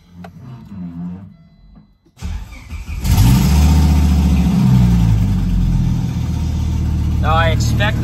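A Volvo 850 T-5R fitted with an IPD exhaust cranks and fires after someone speaks briefly, then settles into a loud, deep, steady idle up close.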